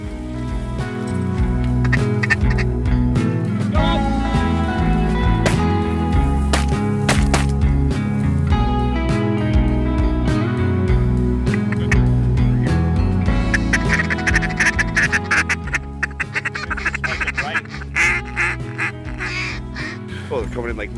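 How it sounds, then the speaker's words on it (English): Ducks quack as they fly in during an evening duck hunt, the calls mixed with a loud, steady music bed and voices throughout. "Ducks coming right in."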